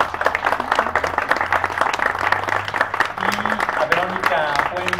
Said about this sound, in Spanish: reiteramos también un gran aplauso para nuestros músicos, para todos ustedes